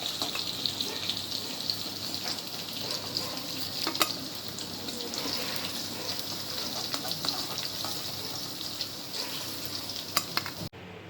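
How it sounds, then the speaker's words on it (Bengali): Cumin seeds sizzle in hot oil, tempered for a matar paneer curry, making a constant bright crackling hiss with scattered pops that continues steadily throughout. "পনিরের সবজির জন্য সবথেকে আগে একটু জিরে দিয়ে ফোড়ন দিলাম।"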